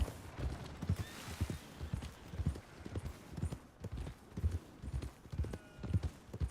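Horse hooves clip-clop at a steady walking rhythm around the stables in Red Dead Redemption II, close and distinct with faint creaks, no talk.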